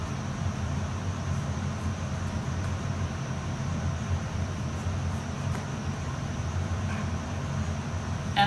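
A kitchen range hood fan runs with a steady, low, broadband whooshing drone that holds even throughout, fairly loud and close, with no talking over it.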